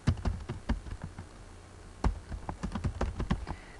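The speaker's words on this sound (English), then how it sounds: "let me type in my password again." Fingers type a password on a computer keyboard in quick irregular bursts of close, crisp key taps, with a brief pause partway through.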